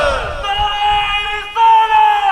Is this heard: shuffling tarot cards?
no